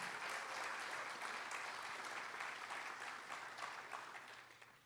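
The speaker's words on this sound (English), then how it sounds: "let's give them another round of applause" Sustained applause from a convocation audience at a maritime academy ceremony, a dense, steady clapping that holds loud for several seconds and then gradually tapers off, with no talking over it.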